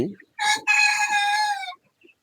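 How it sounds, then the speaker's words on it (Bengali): A rooster on a poultry farm of about eight hundred chickens gives one loud, close crow after a brief cluck, then the sound fades to quiet. "আমার এই খামারের মুরগি রয়েছে আষ্টশো পিস"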